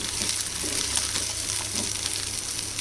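Onions sizzling in hot oil in a pan for Chettinad garlic chutney, a steady close crackle and hiss with no talk.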